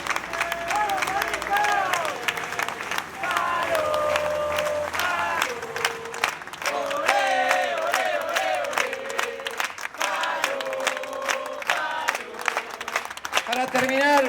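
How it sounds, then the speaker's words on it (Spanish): A crowd at a gathering claps and cheers while loud voices, shouting or chanting, ride over the applause throughout. "el compañero Pablo Ortega, para quien le pido un fuerte aplauso"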